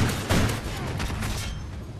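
Rapid gunfire bursts in the Call of Duty Ghosts video game, a dense fusillade of loud reports over about two seconds, fading at the end.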